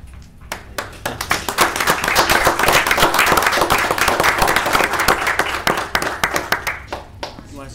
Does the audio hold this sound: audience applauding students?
yes